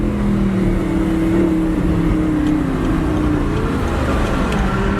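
A Nissan GTR sports car engine hums steadily and loudly close by, with its pitch rising and falling as it revs and pulls ahead.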